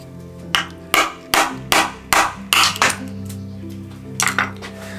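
A hammer strikes a cheap survival knife in a series of sharp metallic blows, about seven in quick succession, then a short pause before two more hits. Each impact rings briefly.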